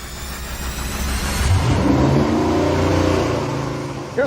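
A race engine on a dyno running Sunoco 116 octane race gasoline, revving up from a low idle into a loud, rising mid-pitched roar that holds, then eases off.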